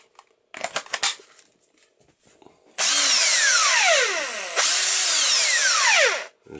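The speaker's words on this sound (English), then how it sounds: "450 foot pound torque gun. Impact wrench." A Milwaukee half-inch drive impact wrench rated at 450 foot-pounds, a few short clicks and bursts, then loud sustained whirring runs with a falling whine as it spins down, close and alone.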